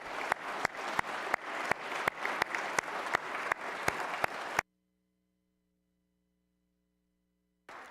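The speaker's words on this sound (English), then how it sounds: "let's give Julie and Michael a huge round of applause." An audience applauds at the Kentucky governor's 2022 budget address, steady and fairly loud with sharp rhythmic claps for about four and a half seconds before cutting to near silence.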